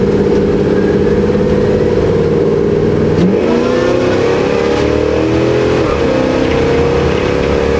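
A 1969 Pontiac GTO Judge with its Ram Air IV engine and aggressive cam revs loudly and close, a throaty roar that climbs in pitch around the middle and holds steady to the end, with no voices.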